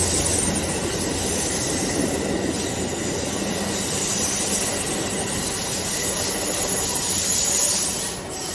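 Amtrak 50, the eastbound Cardinal passenger train led by the Day 1 Heritage Unit, rolls past Cotton Hill with a steady, loud rumble and hiss of wheels and cars that holds throughout before easing slightly at the end.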